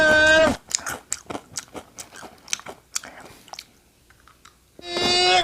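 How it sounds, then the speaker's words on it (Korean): A crunchy snack is bitten and chewed close up, giving a rapid series of sharp crunches that fade to softer chewing, set between two louder tonal bursts at the start and end. "그러면 한번 먹어볼게요, 이것도."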